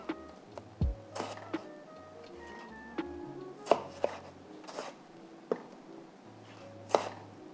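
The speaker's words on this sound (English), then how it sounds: "I'm going to cut my tomatoes into wedges." A knife cuts tomatoes into wedges on a chopping board: a string of separate sharp knocks at an irregular, unhurried pace, close by, with soft handling noises between them.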